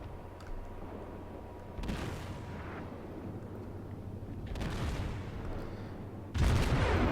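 Naval guns firing high-explosive shells in the World of Warships video game, with a few deep, booming salvos a couple of seconds apart over a steady low rumble, the last one loudest.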